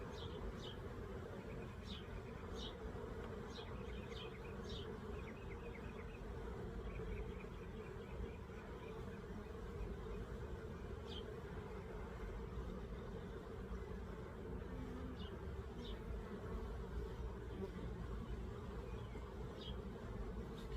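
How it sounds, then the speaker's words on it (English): Honey bees buzz steadily around an open hive during a summer split, a dense continuous drone with occasional individual bees whining past nearby. "we'll shake some bees in here"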